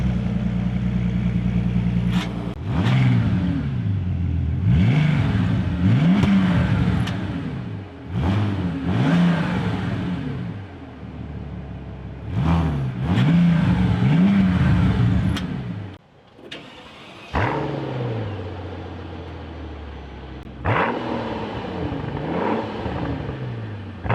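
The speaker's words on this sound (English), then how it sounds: "We'll fire them up real quick for you." A Mercedes CL65 AMG V12 engine starts and is blipped repeatedly, loud close revs rising and falling in bursts with brief idling pauses between them.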